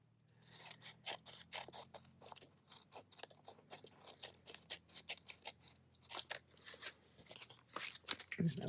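Scissors trimming green paper, with a quick run of crisp, close snips and rustles repeated in irregular bursts, and faint background hum beneath.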